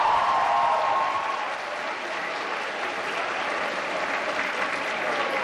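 Conference attendees at a family medicine working session clap for themselves. The applause is steady and dense throughout, moderately loud with a faint tonal hum at first, and nobody speaks over it.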